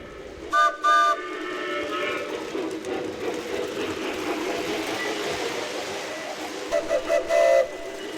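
A steam train rumbles and clanks steadily, with short whistle toots at the start and again near the end as it gets moving.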